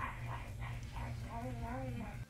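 Puppies whimper and give small yips indoors, high wavering cries close by, mixed with talking.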